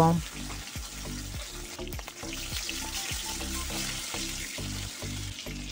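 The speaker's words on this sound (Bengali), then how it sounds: "মাছগুলো ভেজে নেব।" Fish frying in hot mustard oil in a wok on a gas flame at low-to-medium heat, a steady close sizzle with intermittent low knocking of utensils.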